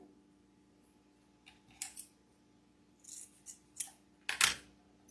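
Scissors snip through wired ribbon while a bow is being made, a handful of sharp, close clicks and cuts spaced irregularly against a quiet background.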